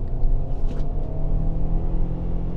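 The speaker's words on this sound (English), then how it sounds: "This thing doesn't sound great when you really put the throttle down." A 2024 Toyota Sienna Woodland AWD hybrid under full throttle gives a steady, droning engine rumble, close and continuous with a strained low hum.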